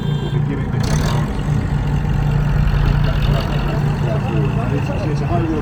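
Beaumaris RNLI lifeboat engines fire up and settle into a steady low running rumble for several seconds, continuous and close, while someone talks over the noise.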